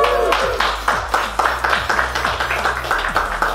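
A crowd gathered for a giant sub sandwich eating challenge claps and cheers in uneven bursts, with scattered sharp claps over a steady low background hum.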